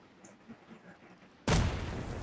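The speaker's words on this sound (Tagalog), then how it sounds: "Summon TNT. Boom." A TNT block detonates in Minecraft: after a quiet stretch a sudden loud blast hits, then a broad roaring rumble that sustains to the end, near and dominant.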